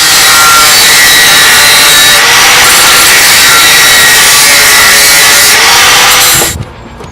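Loud, steady sawing of metal sheet being cut to size for a welded fabrication, a continuous harsh rasping drone held for several seconds before it abruptly stops.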